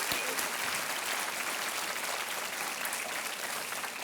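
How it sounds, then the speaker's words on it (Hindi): Studio audience applause on the Hindi quiz show Kaun Banega Crorepati, a steady, dense roar of clapping that fills the room and holds at full strength from start to finish. "एक बार तालियां बजाएं।"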